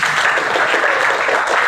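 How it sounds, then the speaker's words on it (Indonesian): A classroom of students gives a short, dense burst of applause for a classmate, steady and fairly loud throughout, without anyone speaking. "Tepuk tangan untuk Nono."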